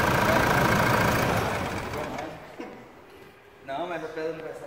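A car engine runs loudly at first, then cuts off and fades, leaving quieter background noise before a voice speaks near the end.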